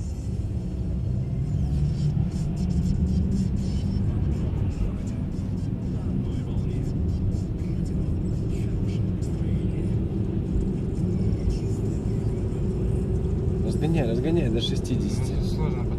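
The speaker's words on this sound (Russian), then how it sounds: "Разгоняем автомобиль." A car accelerates during a driving lesson on a test route. Its engine makes a steady, loud rumble that builds over sixteen seconds, and an instructor and student talk over it.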